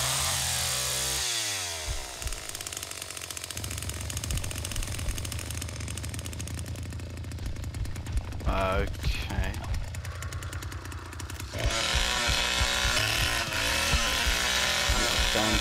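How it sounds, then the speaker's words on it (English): A chainsaw revs and buzzes loudly, bogging and sputtering partway through before roaring back up, with voices talking over the engine noise. "Chainsaw stalled."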